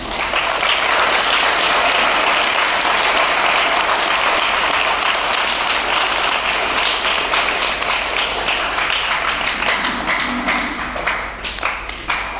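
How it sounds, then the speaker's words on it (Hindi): An audience at a parish welcome ceremony for a new parish priest claps loudly and continuously in a dense, steady roar of hands that stays strong and near, easing slightly toward the end. "जोर से ताली बजाएं।"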